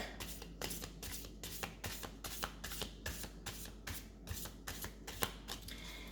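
A deck of cards shuffled repeatedly at close range, a quick run of crisp riffling bursts in an even rhythm, fairly quiet and with no voices.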